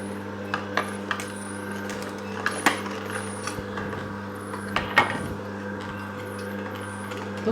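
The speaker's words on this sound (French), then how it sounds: "donc là je laisse un petit peu tourner l'extracteur" A vertical slow juicer runs steadily while crushing vegetables with onion, garlic and parsley, giving a low continuous mechanical hum with faint grinding and sporadic small clicks and knocks over several seconds.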